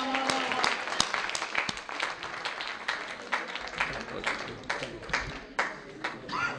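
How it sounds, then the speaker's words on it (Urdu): Audience at a mushaira poetry gathering in Dallas, 2010, claps steadily and fairly loudly, with brisk dense clapping and scattered sharp individual claps continuing throughout. "آپ کی بھرپور تالیاں ایک مرتبہ۔"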